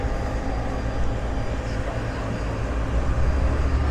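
A small ATR turboprop airliner at an airport gate produces a steady, broad engine drone with a low rumble, continuous and fairly loud throughout without clear changes.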